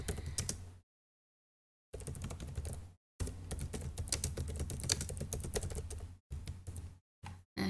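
Bursts of rapid keystrokes on a computer keyboard while a layout name is typed in QGIS, broken by short silent gaps, fairly close and without speech.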